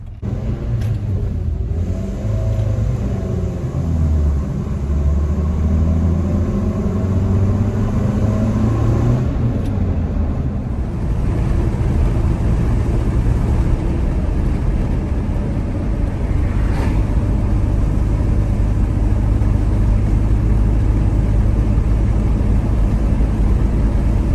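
A four-cylinder manual pickup truck's engine drones low and steady while driving, with a pitch shift in the first ten seconds as the gear changes and a constant cabin rumble thereafter, no talking.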